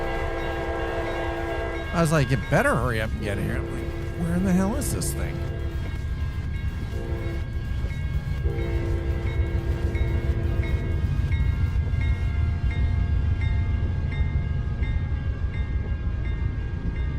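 A passing train sounds its horn in long sustained blasts over a continuous rumble of rolling rail cars, while someone talks excitedly over the start.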